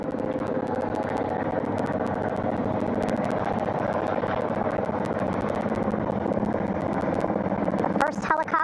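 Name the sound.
recovery helicopter hovering over ship's flight deck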